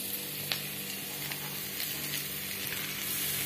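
Soaked poha hits a hot pan of tempering for aval upma and sizzles steadily at close range, a dense continuous frying hiss with light stirring scrapes and no talking.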